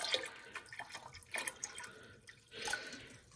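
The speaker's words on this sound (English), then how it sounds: "This is how I pour my vinegar in." Vinegar poured freely into a yarn dye bath, giving soft, faint splashing and dripping in a few uneven bursts, with a fuller steady pour near the end.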